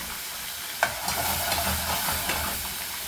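Chicken fries in a pan with a splash of vinegar, giving a steady close sizzle and hiss with occasional light stirring clicks and pops throughout.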